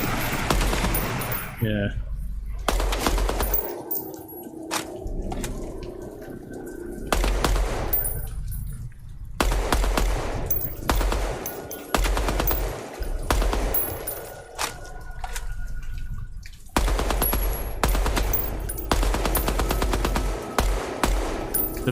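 Bursts of automatic gunfire from the video game Project Moon, loud rapid volleys repeating in short strings with brief pauses, a voice speaking briefly between them.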